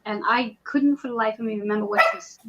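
A dog barks a few times indoors, short yelps mixed in under a person talking steadily close by.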